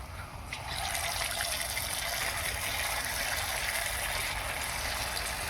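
Pumpkin fritter batter drops into hot oil in a kadai and fries with a dense, steady hissing sizzle that swells after the first half-second and holds loud and even throughout; no one speaks.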